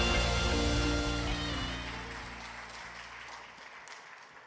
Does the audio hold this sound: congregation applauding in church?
yes